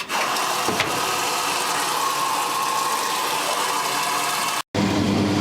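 A vintage washing machine's motor runs steadily, a close, continuous hum with a belt-driven pump, broken by a very short dropout near the end before the running resumes.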